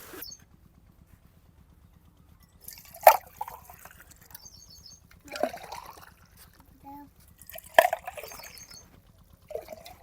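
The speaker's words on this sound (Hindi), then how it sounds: "बर्तन धो रही है।" Dishes are washed by hand under running water at home, in intermittent bursts of splashing and clinking separated by quieter gaps over a faint low hum.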